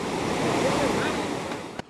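Rough ocean waves break loudly and continuously on a Bali beach, a dense steady surf roar that fades out abruptly near the end.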